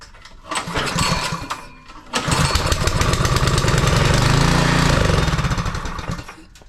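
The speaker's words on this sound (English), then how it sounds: "turn the engine over with the pull cord and see if it makes any noises like it wants to run" An old tiller's small engine is yanked over with its pull cord after a shot of starting fluid: two loud bursts of rapid mechanical chugging, the second longer and sputtering as if trying to fire, then cutting off.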